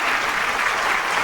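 An audience applauds at a televised launch event for a performance channel, a dense, steady clapping that fills the whole short moment at full volume with no break.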